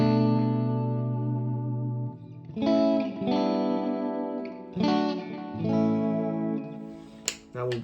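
A single-coil electric guitar through the Marshall Plexi normal-channel model on a Quad Cortex rings out a held chord, followed by a run of punchy chord stabs and short phrases, loud and clear with no voices.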